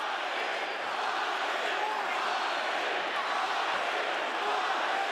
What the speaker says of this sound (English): the capacity crowd here continuing to cheer at full volume for their man